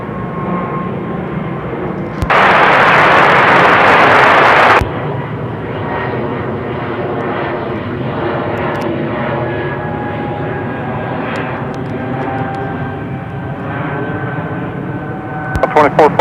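An airliner's jet engines roar steadily as it takes off from a runway at Seattle-Tacoma International Airport. Air traffic control radio voices talk over the noise, and a brief burst of static is heard early on.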